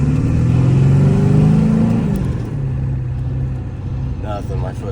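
A Ford OBS 7.3 diesel engine revs under throttle, loud and close with a strong low drone that rises and then settles to a steadier idle-like hum.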